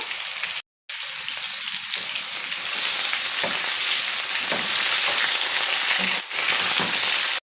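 Potato pieces frying in hot oil with a loud, dense, steady crackling sizzle at close range, briefly cut off near the start and again later, with no voices.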